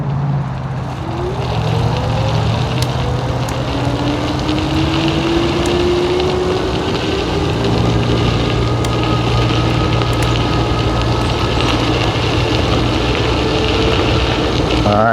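An electric motor on a dual-motor vehicle runs at power level 5 as the throttle is toggled, giving a continuous close hum with whining tones that rise and fall, and no talking.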